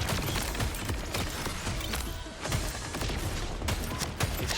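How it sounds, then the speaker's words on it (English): Explosive weapon blasts in the video game Borderlands 4: dense, loud bursts of booming impacts and crackling debris overlapping in rapid succession, with a brief lull midway before the barrage resumes. "Explosions. Like I'm using the explosive weapon"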